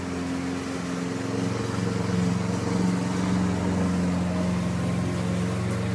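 A lawn mower engine runs close by, a steady droning hum with a low harmonic buzz that holds level for the whole stretch, with no voices.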